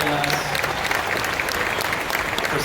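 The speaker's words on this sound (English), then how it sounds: "Please give yourselves a round of applause." A convention panel audience at San Diego Comic-Con applauds continuously, a dense, steady wash of clapping from a large crowd with a voice briefly audible at the start.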